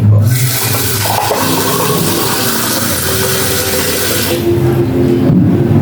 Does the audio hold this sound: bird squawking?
no